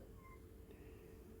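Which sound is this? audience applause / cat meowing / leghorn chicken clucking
cat meowing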